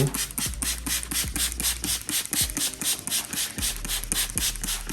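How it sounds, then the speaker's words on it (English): Quick, rhythmic bursts of shampoo pre-wash sprayed from a pump sprayer over a car, with a clicking trigger mechanism, repeated steadily at close range with no voices. "I'm just gonna spray this all over the car"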